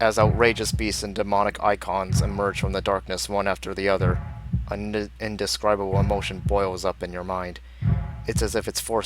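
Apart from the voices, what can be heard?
None of the usual background noises is heard.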